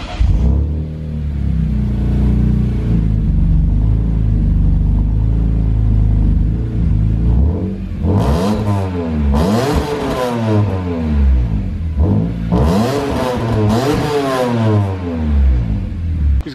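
A BMW E92 M3 V8 idles with a deep, steady rumble, then revs sharply several times in bursts with a raspy exhaust, loud and close.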